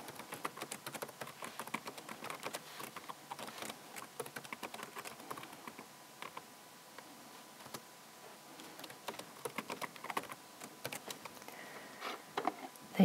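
Text is typed on a computer keyboard in steady bursts of close, crisp key clicks with short pauses between runs, quiet and without voices.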